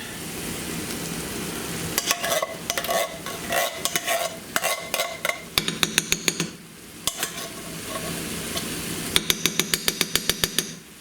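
A spoon stirs sloppy joe mix into cooked, drained ground meat in a pan. Repeated scraping and clanking strokes run over a steady sizzle, close and fairly loud, with quick bursts of taps near the end and no talk.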